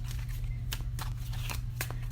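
Tarot cards are shuffled by hand in a soft, rapid riffling patter with a few sharper snaps, set against a steady low background hum.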